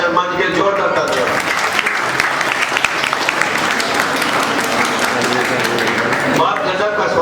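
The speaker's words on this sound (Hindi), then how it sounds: "जोरदार तालियां" Loud, steady audience applause fills a hall at a retail business motivational talk, dense clapping that holds throughout without a break.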